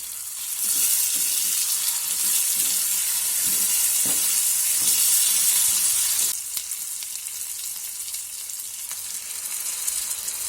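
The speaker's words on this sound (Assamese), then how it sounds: "ইয়াতে এতিয়া গৰম পানী দিব লাগিব।" Hot water poured into a pan of frying chicken, a loud hissing sizzle that swells for several seconds and then settles into a quieter steady bubbling fry.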